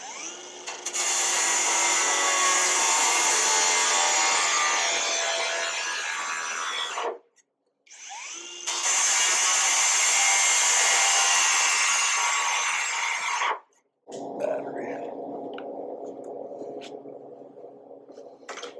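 A cordless angle grinder with a grinding disc works on metal welds, two long loud sustained grinding passes separated by a brief pause, then the motor winds down into a lower whir.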